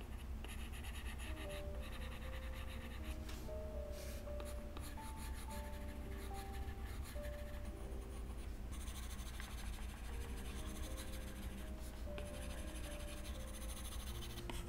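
Stylus lines being drawn on a tablet screen in Procreate, a steady soft scratching and rubbing with faint tonal hum underneath, continuous throughout at low level with no talking.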